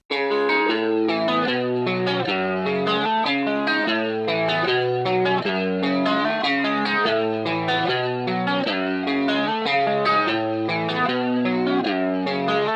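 Electric guitar playing a steady rhythmic part from a song with spring reverb and compressed, even tone, loud and continuous throughout.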